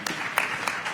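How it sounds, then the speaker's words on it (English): Scattered applause from the audience at a business summit, a brief soft patter of clapping heard at a distance in a large hall. "Round of applause"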